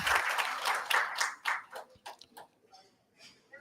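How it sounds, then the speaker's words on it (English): An audience at a national seminar on early childhood learning gives a round of applause, starting as a lively burst of clapping and thinning out to scattered claps within a few seconds. "Let's have a round of applause"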